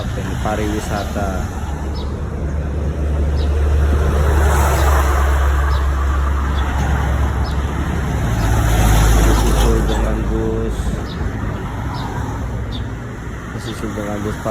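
Tour bus rolling past on a busy road on a bright morning, a loud, broad rumble that swells and fades amid traffic noise, with someone talking over it.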